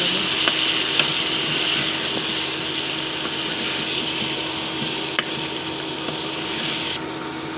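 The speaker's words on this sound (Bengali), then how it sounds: "এবার দিয়ে দিচ্ছি আমরা পরিমাণ মতন জল।" Water added to a pan of frying spices with green chilli, ginger and garlic, a steady hiss and bubbling sizzle with a few faint clinks, fairly close and continuous.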